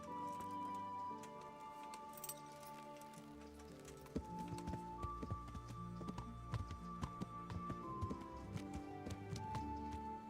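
Horse hooves from Kingdom Come: Deliverance tap along in a faint, quick ticking rhythm beneath sustained game music, with no voices over them.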